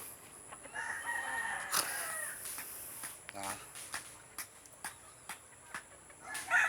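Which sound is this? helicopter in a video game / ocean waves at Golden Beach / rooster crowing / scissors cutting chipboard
rooster crowing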